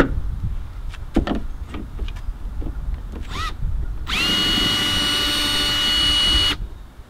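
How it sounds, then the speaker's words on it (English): A few clicks and handling noises, then a power drill whirs loudly and steadily for about two seconds before stopping, drilling out rivets on a Polaris Ranger. "I'm tempted to drill out all 4 of them"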